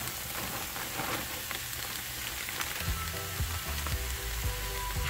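Cabbage and bacon frying in a skillet, a dense close crackling sizzle that continues steadily, with a few soft scraping stirs.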